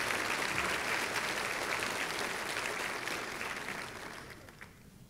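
Applause from a luncheon audience, a steady crowd clapping that gradually thins and fades out toward the end.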